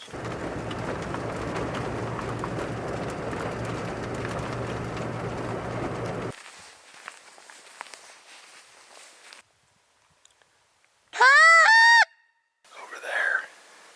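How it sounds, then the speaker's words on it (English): Distant wild turkey gobbles ring out twice near the end, a harsh rattling burst followed by a fainter one, after a stretch of rainy rumble and quieter rustling. "Sounded like 2 different gobblers, maybe a jake and a gobbler"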